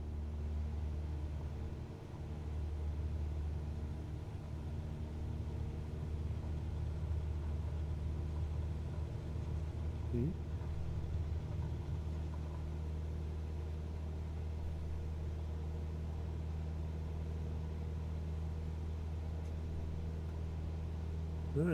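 In a flight simulator game, a small propeller plane's engine hums in a steady, moderately quiet low drone as it rolls for takeoff, holding an even pitch with only slight changes and no talking.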